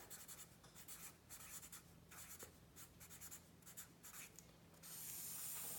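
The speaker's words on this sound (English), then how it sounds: "I'm going to write the year at the top just so I know what year" A pen scratches across paper in short, quiet strokes, labeling a weather data table, with a soft steady hiss underneath and a brief louder rustle at the end.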